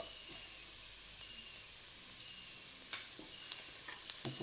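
Sliced onions sauté in a pan with a pinch of salt while chicken roast is being prepared, giving a steady, soft sizzle throughout, with a few light stirring clicks and scrapes toward the end.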